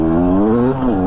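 A Beta enduro motorcycle engine on a 2022 test ride revs under a handful of throttle, a loud close steady drone with the pitch bending up and down.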